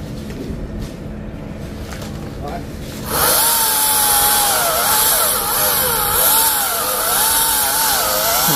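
A chainsaw cutting down a coconut tree roars to life after a few seconds of outdoor voices and background noise, then screams loud and close, its pitch rising and falling as the engine revs through the cut.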